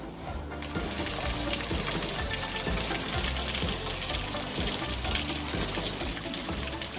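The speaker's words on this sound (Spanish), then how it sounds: "los recorridos del agua bajando desde el manantial escondido en lo más alto" Spring water runs down from a hidden source high in Galicia, a steady, unbroken rush of flowing water.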